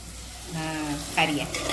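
Onion hitting hot oil while tempering, a sudden rising sizzle and crackle that swells after a quiet start and continues steadily, fairly close, with a brief sharper spatter near the end.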